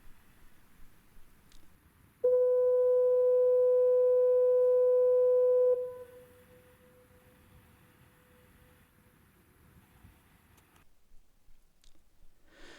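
Portland Bill lighthouse fog signal sounds one steady, loud tone lasting about three and a half seconds, then cuts off, leaving quiet room noise.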